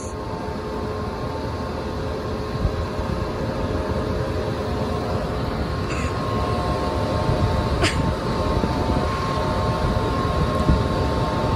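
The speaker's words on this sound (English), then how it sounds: "Those are the worst dryers I've ever heard." A loud, continuous mechanical rumble and rattle of poorly maintained co-op laundry dryers running, with a few faint clicks and squeaks over the steady drone.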